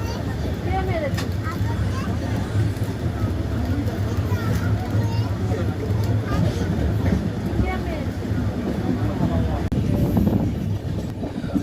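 Malda Town–Howrah Intercity Express pulling into Barddhaman junction station: a steady low rumble of wheels and rattling carriages throughout, with murmured voices in the background.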